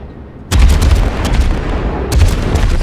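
Heavy naval cruiser guns firing in a warship battle game, a loud sudden booming salvo followed by sustained rumbling blasts and a second burst of shots moments later.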